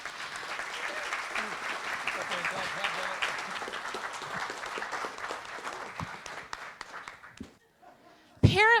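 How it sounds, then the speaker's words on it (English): An audience at a local all-candidates election debate gives the candidates a round of applause, steady moderate clapping that fades out, with a voice briefly speaking at the end. "So round of applause to the candidates."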